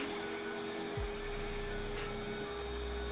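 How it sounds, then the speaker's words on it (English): A vacuum cleaner running steadily in a crafting room, a constant loud whooshing drone with a low motor hum whose pitch drops and shifts as the load changes. "I'll turn off the vacuum for this."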